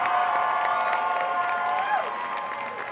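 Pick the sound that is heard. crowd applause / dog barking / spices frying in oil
crowd applause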